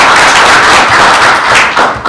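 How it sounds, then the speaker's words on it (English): Audience applause at a school board meeting, loud and close, a dense continuous clatter of clapping that thins slightly toward the end. "Let's give Ms. Cole a round of applause."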